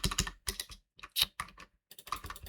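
Computer keyboard keys pressed during a Piggy Intercity game session: quick bursts of close, crisp clicks in several short clusters separated by brief pauses, with no speech.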